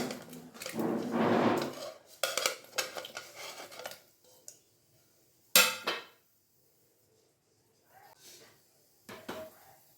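Chopped chillies, garlic, tomatoes and onions going into a pressure cooker, heard as a run of metallic clanks, scrapes and clinks of a spoon and vessel in bursts separated by quiet gaps.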